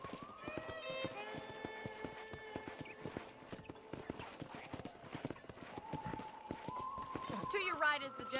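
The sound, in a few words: horse arriving at ranch in video game Red Dead Redemption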